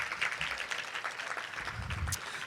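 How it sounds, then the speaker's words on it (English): An audience of educators applauds at a conference, a dense and steady wash of clapping throughout at moderate loudness, with faint murmuring underneath. "Can we all give them a round of applause for this great year,"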